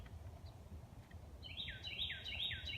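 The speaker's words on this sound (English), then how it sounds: "do you hear that bird?" A bird sings a repeated, rising warbling phrase outdoors, clear and fairly close, over a low background rumble.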